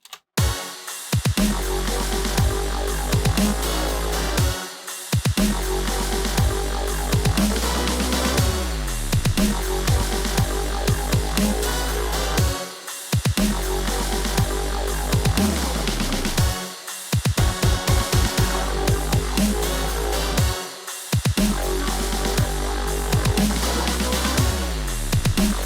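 Heavy metal-style breakdown section of an electronic rock track, loud and dense with pounding low drums and chugging rhythm, broken by several short stop gaps before slamming back in, no voices.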